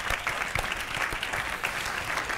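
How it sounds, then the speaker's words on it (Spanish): An audience bursts into applause at a jota talent show interview, brisk dense clapping with distinct individual claps near the front, lasting a couple of seconds. "¡Un aplauso!"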